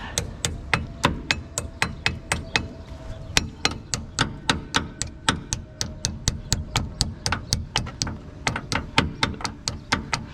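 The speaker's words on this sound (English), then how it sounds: "Now the one brake pin. And tappy, tappy, tappy." A hammer taps a brake pad pin into a car's brake caliper in a steady run of about thirty sharp metallic strikes, close and evenly spaced with no talking.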